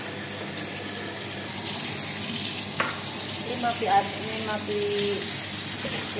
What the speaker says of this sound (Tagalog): kailangan natin ibuhos ulit tapos huhugasan natin ang ating karne para mawala ang lansa